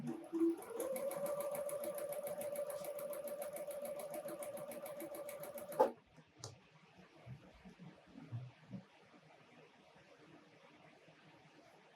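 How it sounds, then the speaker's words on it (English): A sewing machine runs steadily for about six seconds while stitching appliqué quilt blocks for a snowman project, a close, even motor hum with rapid needle ticks, then stops abruptly, leaving faint handling sounds and room noise. "We're going to sew all 4 of these and then I'll press them"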